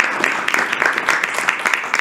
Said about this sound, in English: this round of applause is for you guys.